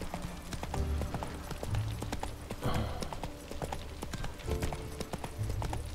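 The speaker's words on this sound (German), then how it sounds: "Ja, das ist ein Pferd." Horse hooves clip-clop at an unhurried walking pace in The Witcher 3, a steady close rhythm of soft thuds over a low game ambience.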